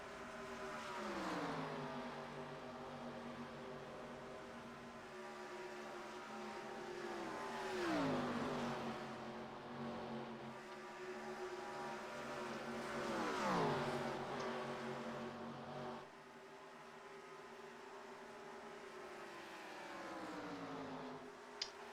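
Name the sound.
stock cars racing in iRacing 1987 Daytona 500 (video game)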